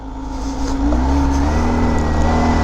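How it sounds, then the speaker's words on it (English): A supercharged Kawasaki ZH2 motorcycle with 495 miles on it, ridden at sunset: loud close engine drone rising in pitch as it accelerates, with a fluttering supercharger whine over steady wind rush. "Oh, and the flutter of the supercharger."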